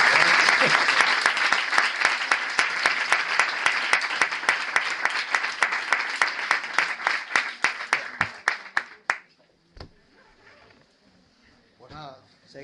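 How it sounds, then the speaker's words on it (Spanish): An audience at a talk on poverty and aid applauds for Pablo, a full round of clapping that holds steady for several seconds, then thins into scattered individual claps and dies away, followed by quiet murmuring. "un aplauso a Pablo por la intervención"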